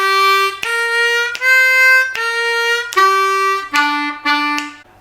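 Harmonica blues turnaround played slowly: a held 2 draw followed by a pair of 1 draws, repeated across the passage as clear, separate, sustained reedy notes with short gaps between them, played alone.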